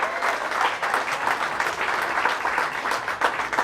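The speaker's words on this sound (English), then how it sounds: "Give Lenny a big round of applause." An audience at a VFW post comedy night applauds Lenny Clark with a continuous, even wash of clapping from a full room, held at a steady level throughout.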